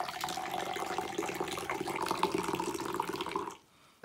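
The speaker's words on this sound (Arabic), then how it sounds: "وغادي نخويو اتاي ديالنا." Moroccan tea pours in a steady liquid stream into a jar over honey and sugar, close and continuous for about three seconds before stopping abruptly.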